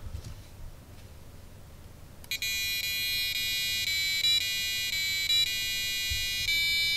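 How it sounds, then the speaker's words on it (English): A high, shrill piezo buzzer on a wearable flexible circuit board starts partway through and plays the Star Wars theme in sustained electronic tones with steady pitch steps, loud after a quiet start. "Here it is, the buzzer."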